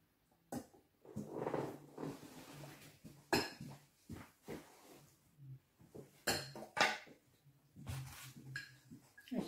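Dishes being washed with soap, irregular clinks and knocks of plates and utensils with splashy scrubbing bursts, close and fairly quiet throughout.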